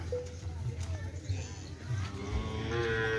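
Cattle lowing outdoors with a few short moos among a busy crowd at a bull event, with people talking throughout and hoofsteps nearby.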